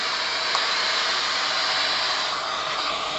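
A Silvercrest 750 W quiet vacuum cleaner runs with a steady, close, loud airy whoosh throughout, with no pauses or talk.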